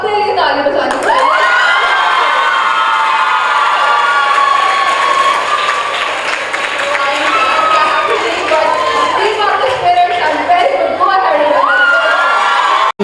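A college audience at an arm wrestling event among young women, cheering loudly with shouts, whoops and clapping in a dense, sustained roar that fills the whole stretch without a break.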